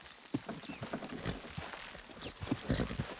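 Horse hooves clip-clop in an uneven walking rhythm in the video game Red Dead Redemption 2, fairly close and moderately quiet, with no talking.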